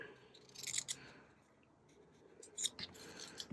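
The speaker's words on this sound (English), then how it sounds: "I'm going to cut a shape here" Scissors snip a shape out of a book page with soft, close, intermittent cuts and rustling paper, quiet and with no talking.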